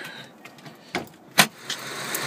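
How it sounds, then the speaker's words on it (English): A few scattered mechanical clicks and thumps around a 2008 Ford Edge SEL AWD, with one sharp louder clack as the hood latch releases, then quieter shuffling. "Go ahead and pop the hood."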